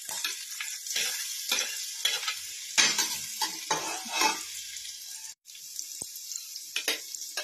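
Onion and garlic sauté in oil for a Filipino miswa soup, a close crackling sizzle broken by bursts of spatula stirring and scraping against the pan, with one brief quiet gap partway through and no talking.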